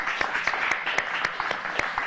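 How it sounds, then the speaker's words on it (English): An audience at a live TV show applauds, a steady spatter of many claps with a few louder individual hand claps standing out, moderately loud and without speech. "A nice round of applause for Stephanie back there in the booth."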